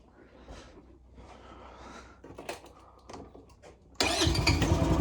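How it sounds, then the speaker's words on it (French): Scooter engine cranking after a starter motor replacement, a few faint starter whirs and sputters, then catching abruptly and roaring into a loud, steady idle at close range. "Démarre au quart de tour."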